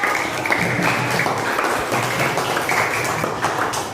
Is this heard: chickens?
no